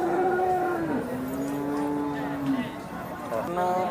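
Cows moo loudly at the Sangola cattle market, one long drawn-out low call followed by another shorter moo, heard close over faint crowd murmur.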